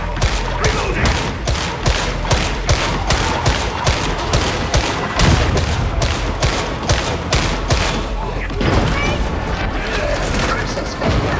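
Loud, rapid bursts of gunfire in Warhammer 40,000: Darktide, evenly spaced heavy shots pounding almost nonstop with booming impacts, while voices shout now and then over the combat.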